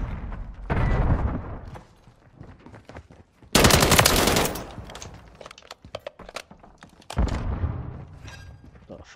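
Rapid automatic gunfire from an online free-for-all shooter match crackles in two loud, close bursts with a third sharp volley, separated by quieter stretches of distant shots and game noise.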